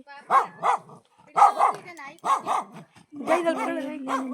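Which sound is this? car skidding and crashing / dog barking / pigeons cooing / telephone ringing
dog barking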